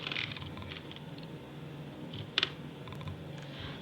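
Computer keyboard typing while code is written, a steady patter of soft key clicks with a couple of sharper taps, close and alone without talk.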